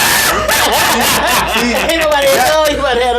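A dog gives several close, high yips and whimpering barks in quick succession, mixed with people talking nearby.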